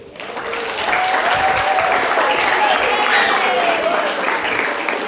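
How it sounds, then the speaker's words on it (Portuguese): A live audience at a retreat gathering gives loud, sustained applause that swells quickly and holds steady for several seconds, with a voice speaking briefly over the clapping. "o som das palmas me fizeram bem"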